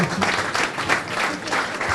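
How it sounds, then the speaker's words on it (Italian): An audience clapping at a public event, steady and moderately loud throughout with no voices over it. "Sindaco, prego, un applausetto."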